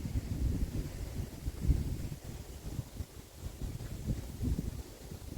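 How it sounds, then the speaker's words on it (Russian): Strong, gusty wind blowing outdoors at a dacha in early May, a low rumbling buffet of air against the microphone that swells and eases without pause and sounds cold and raw. "Ветер ужасный."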